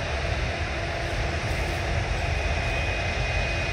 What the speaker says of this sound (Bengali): এবং এদিকে সৌদি এয়ারলাইন্সের বোয়িং 777 এখন টেক অফ করার জন্য রেডি।